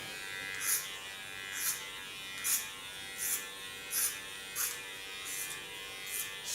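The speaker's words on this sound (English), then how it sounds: "Clean the contour with a small clipper." A small electric hair clipper buzzes steadily at close range while contouring short hair, with regular short bursts of sharper cutting sound roughly every second over the constant hum.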